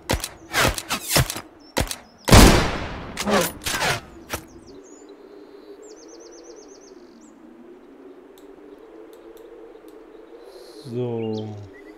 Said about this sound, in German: Ah, die Raben